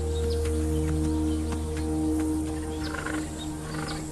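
Three six-year-old male lions roar across their wild territory, deep and rumbling. The roars run steadily throughout, with faint bird chirps scattered over them outdoors.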